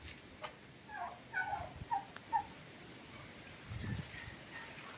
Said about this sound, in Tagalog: may mga alagang pabo ngayon yung caretaker